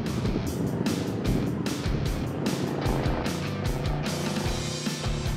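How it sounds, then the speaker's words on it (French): Steady low rumble of a 1984 Ford Mustang GT's 302 cubic-inch five-litre V8 engine, a continuous throaty drone with slight pulsing, heard alone at moderate volume. "la sonorité de ce petit bloc moteur de 302 pouces cubes était comme une mélodie aux oreilles des amateurs de muscles"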